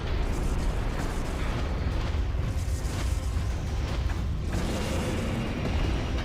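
Morph ball bombs going off in Metroid Prime 3: Corruption, a dense rumbling wash of booming blasts and bursts that stays loud and continuous, with layered game noise and no voices.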